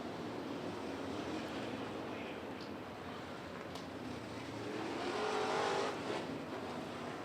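USRA stock cars circle a dirt track at an O'Reilly Auto Parts feature race, giving a steady, distant engine roar that swells slightly near the end, with no talk.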